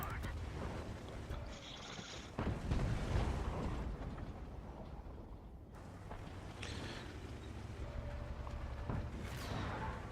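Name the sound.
tank cannon shot in World of Tanks video game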